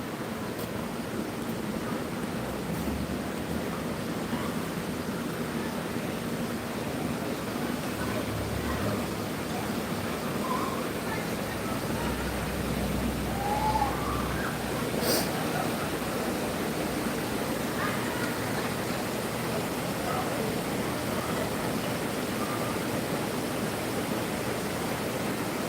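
River water in Helen, Georgia, at a tubing spot rushes in a steady, dense wash with no breaks, holding an even level throughout.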